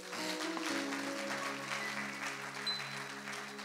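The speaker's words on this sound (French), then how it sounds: "Acclame pour le Seigneur" A church congregation claps continuously for a few seconds at a sermon, a soft, steady wash of applause heard at a distance.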